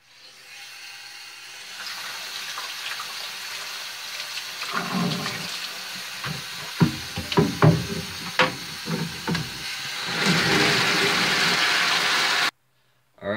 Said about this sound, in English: add some new water.